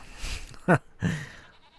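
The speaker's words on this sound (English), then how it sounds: "So many sheep and goats." Two short bleats, one sharp and one softer, from sheep and goats in Farming Simulator 25, close by with a faint background hum.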